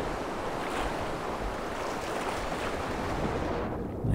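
Steady rushing water from a waterfall in the video game Far Cry Primal, a continuous broadband roar holding even for the whole stretch before a slight shift at the very end.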